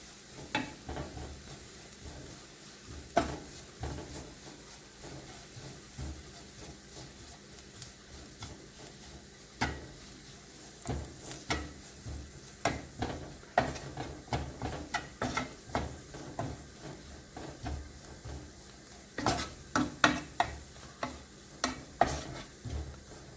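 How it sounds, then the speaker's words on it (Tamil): Egg puff masala being stirred in a pan with a spoon, producing repeated scraping and clinking strokes in irregular bursts over a soft background sizzle, close and moderately loud. "இப்போ இதை நாம் நல்லா மிக்ஸ் பண்ணிடலாம்."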